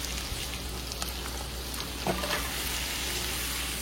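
Prawns, fried potatoes and spice masala fry in a wok with a dense, continuous sizzle, loud and close, with a few faint crackles and no talking.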